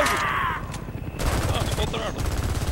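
Heavy gunfire in the war shooter Homefront rattles in dense overlapping bursts, with loud automatic fire and sharp cracks packed together over about three seconds, and a voice shouts briefly amid the shooting.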